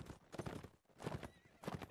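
A horse in the battle game Mount and Blade Warband neighs and gallops, rapid hoofbeats in clustered bursts with a whinny, close and fairly loud, no talking.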